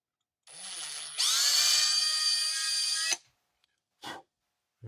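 A Forstner bit in a power drill bores an eye pocket into a wooden crankbait lure: a loud, high whining spin runs for about three seconds, then stops, followed by a couple of short knocks.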